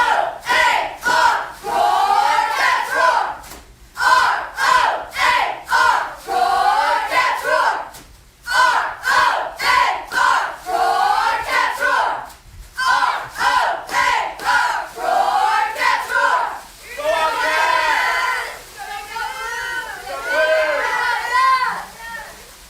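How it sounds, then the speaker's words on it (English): White Plains Wildcats cheerleaders and crowd chant a loud, rhythmic R-O-A-R roar cheer up close, with repeated shouted bursts and short pauses throughout. "give them another opportunity to do one more cheer for us tonight"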